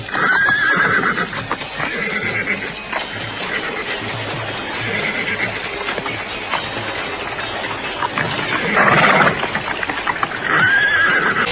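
Several horses whinny loudly in a radio drama as Kediri soldiers leave their mounts near a riverbank, with hooves clopping beneath a dense, continuous layer of sound effects and a sharp neigh near the end.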